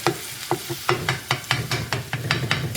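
Chopped turkey and cheese stirred in a sizzling pan, a run of about a dozen sharp spatula scrapes and clacks in a quick, uneven rhythm over a steady frying hiss, close and alone.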